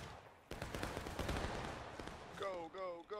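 Musket volleys crackle in a Civil War-style online video game battle, a dense, rapid spatter of shots lasting about two seconds before voices cut in.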